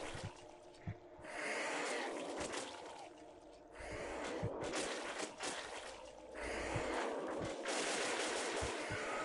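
Rapid bursts of AK rifle gunfire from the SAS Zombies Assault 3 video game, loud and sustained in several long volleys with short gaps between them.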